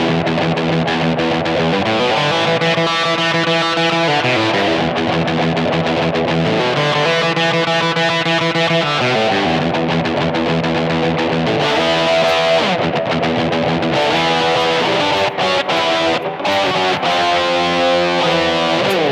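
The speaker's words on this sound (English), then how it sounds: "So I'm using a Marshall and a fuzz pedal." An electric guitar played through a 60s-style fuzz pedal into a Marshall amp model on a BOSS eBand, with thick buzzing sustained chords and riffs playing continuously and loudly without talk.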